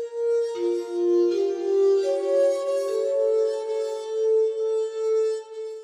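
A short melodic sequence of single notes on a MIDI instrument steps through several intervals, each tone sustained about a second, clear and alone.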